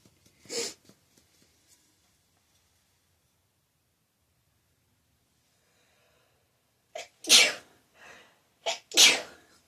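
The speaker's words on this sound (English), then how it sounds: "I'm just so happy to be able to sneeze without instant pain again" Two loud sneezes close by, one early and a bigger one after a long silence, followed by a sharp breath and sniffle.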